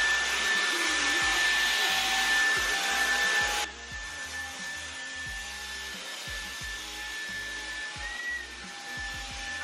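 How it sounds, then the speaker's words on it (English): A vacuum cleaner runs loud and near while a bedroom is cleaned, its steady whine dropping in pitch partway through, with repeated knocks and bumps of the nozzle underneath. "Vacuum time."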